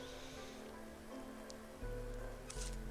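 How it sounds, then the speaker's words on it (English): Steady rain falls on a beach in the video game Against the Storm, a continuous even patter with a few low thumps of game sound toward the end. "It's always raining there."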